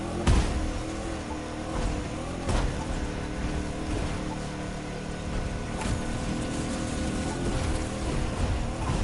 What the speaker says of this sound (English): Let's pump up the muscle car and bring out with some more speed.